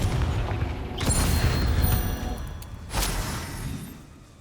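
Confringo fire spell blasts in the Hogwarts Legacy video game, two deep booming explosions with crackling tails about two seconds apart, loud over a rumbling low background.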